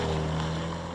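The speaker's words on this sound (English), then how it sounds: "The engine is sales manager smooth, its note is pleasant and hushed" A 2019 Mazda3 AWD hatchback's 4-cylinder engine runs with a steady, smooth, hushed hum and a low droning tone, held evenly throughout without voices.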